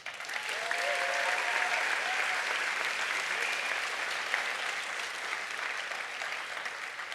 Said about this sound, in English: Furthermore, let's give a big round of applause to our Hype Squad, Ariel and Robert as well.